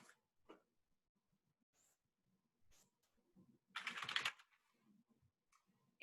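Typing on a computer keyboard while searching for pharma employers: a few faint isolated keypresses, then one short close burst of rapid keystrokes, otherwise near silence.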